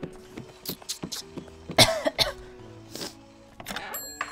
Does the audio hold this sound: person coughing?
yes